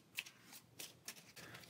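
Cards shuffle in the Pathfinder Adventure Card Game, a few quick riffling bursts in close succession, soft and near.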